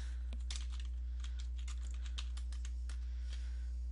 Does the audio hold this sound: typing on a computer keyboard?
yes